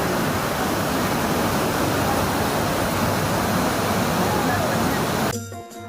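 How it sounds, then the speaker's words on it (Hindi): Rushing, gurgling river water at Gangotri Dham flows loud and steady, close by, a continuous broadband roar that cuts off abruptly near the end. "फिलहाल आप इस कलकल करती ध्वनि को सुनिए"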